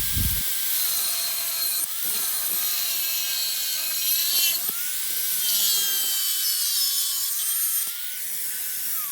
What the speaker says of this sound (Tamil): இப்போ அந்த மார்க் பண்ண ஷேப்புக்கு வந்து நம்ம அந்த கிளாம்பை வந்து கட் பண்ணி எடுத்துக்கலாம்